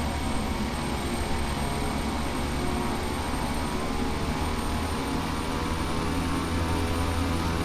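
Beechcraft Starship twin-pusher turboprop landing in the X-Plane flight simulator, its engine drone a steady, loud, broadband roar that holds even throughout the approach with no voices.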